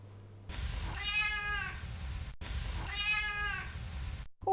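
A cat meows twice in long, drawn-out calls, clear and close, played back as a sound example in an English lesson, with no talk over it.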